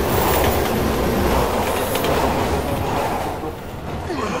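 Trains roll past in the Resident Evil 6 video game, a loud continuous rumble of wheels and carriages with faint squeals, easing slightly near the end.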